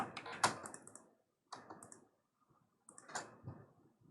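Quiet, close bursts of typing on a computer keyboard arrive in three separate clusters of rapid clicks, with brief silences between them.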